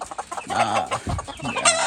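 Local desi chickens cluck on a small farm, a few close, irregular clucks and short calls with a faint bird call near the end.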